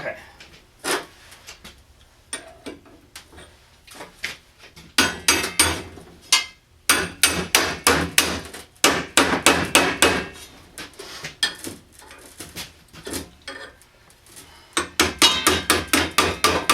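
Repeated sharp hammer blows on a plough coulter in bursts, loud and close, with short pauses between flurries of strikes.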